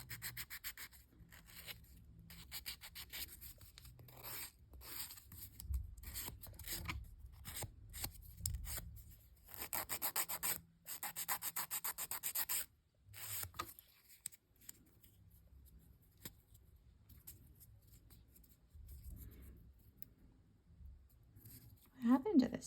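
Builder gel nail extensions being filed and shaped, with intermittent close rasping strokes in bursts and pauses, quiet overall, with someone talking at points.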